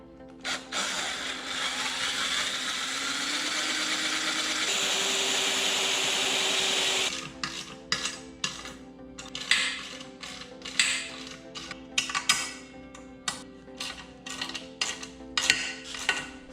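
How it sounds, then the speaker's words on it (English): Power drill boring holes for a swingarm mount bracket on a GoPowerSports Mega Moto 80/105 minibike: a steady whining run for several seconds, then short stop-start bursts and clanks of metal handling, close and loud. "Go ahead and drill some holes out for this mount."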